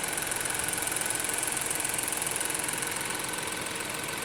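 A 1.5-liter four-cylinder engine in a 2020 Ford Escape SE runs at a steady idle, heard up close under the open hood, with an even broadband hum and a faint rapid ticking throughout.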